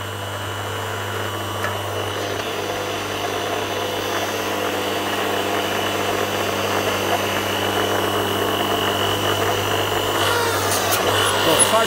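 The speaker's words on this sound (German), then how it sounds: "Jetzt zeige ich es euch mal, ich fahre einmal runter und wieder zurück." A Scheppach HL730 hydraulic log splitter runs with a steady motor and pump hum as its ram travels down and back up, the drone rising slightly in strength toward the end, with a faint creak near the close.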